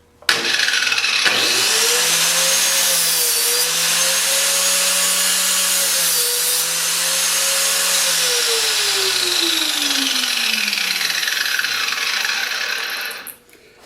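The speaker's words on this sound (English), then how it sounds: "now I'm going to turn the machine on and show you how this works" A Walnut Saw machine starts up and runs steadily, its motor whining while the blade cuts grooves into the ends of black walnuts, a loud continuous drone that holds and then winds down as the machine stops.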